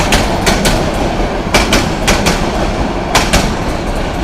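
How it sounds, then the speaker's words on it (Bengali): A train passing close by on a Bangladeshi line headed to Chittagong, with loud rhythmic clickety-clack wheel beats over a steady rumbling roar throughout. "এই যে ট্রেনটা গেল"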